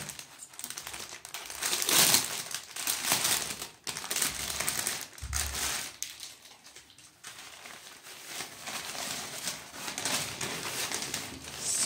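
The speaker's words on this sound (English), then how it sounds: "Now I will open the bag of the softbox in front of you." Fabric and plastic rustle and crinkle as a softbox carry bag is opened, with a brief zip-like rasp and steady handling noise close by, no talking.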